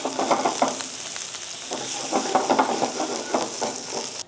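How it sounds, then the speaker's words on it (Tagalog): Garlic and onion sauté in oil in a wok-style pan, a steady close sizzle with bursts of stirring and scraping pulsing through it, no voices. "Magigisa lang tayo ng bawang. Tapos, kaunting sibuyas."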